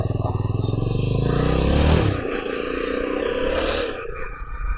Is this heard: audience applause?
no